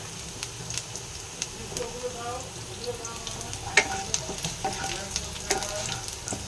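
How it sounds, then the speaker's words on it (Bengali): Garlic is frying in hot oil in a pan, a steady close sizzle with occasional sharp crackles and spatula scrapes as it is stirred. "রসুনটা একটু হালকা ফ্রাই হয়ে যাক"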